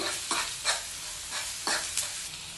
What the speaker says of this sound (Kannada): ಇದನ್ನು ಇವಾಗ ಸ್ವಲ್ಪ ಫ್ರೈ ಮಾಡ್ಕೊಳ್ಬೇಕು